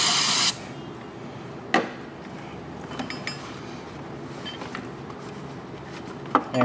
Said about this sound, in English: surface with some carburetor spray, because we want that to have a nice seal.